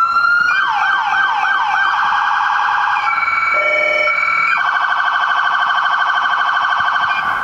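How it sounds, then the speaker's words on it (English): Loud, close emergency siren on a 2020 Chevy Tahoe fire command vehicle cycling through several tones: a rapid wail, a steady high pitch, a brief lower tone, then a fast yelp. "We've got our siren tones."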